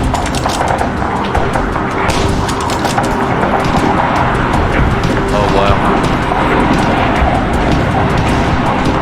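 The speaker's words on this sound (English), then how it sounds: "that's a plane" A plane flies overhead in a military video game battle, a loud, continuous engine roar filling the scene while someone talks over it with brief exclamations.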